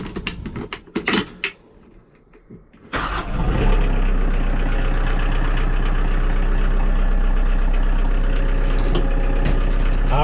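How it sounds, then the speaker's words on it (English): A tractor engine cranks over after a few quiet clicks and knocks, catches around three seconds in, then settles into a steady, loud, rumbling idle that holds to the end, with no talk over it. "So I'm going to fire up the tractor and then we'll get the hydraulics going here."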